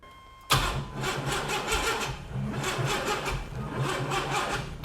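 Junkyard turbo engine in a Chevrolet S10 Syclone build cranking over after an abrupt starter engagement, a loud, close, rhythmic chugging of even compression pulses that never catches and runs.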